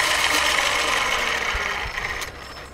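A flywheel KERS bike spins with a steady whirring, mechanical drone as its clutch engages, loud and close, then easing slightly in level toward the end.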